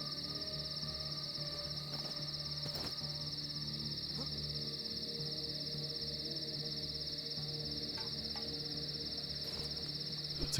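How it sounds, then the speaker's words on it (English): Steady, dense insect drone of cicadas in The Last Stand: Aftermath, a continuous high-pitched chorus running loud and unbroken through the whole stretch with a low ambient hum beneath it. "Cicadas."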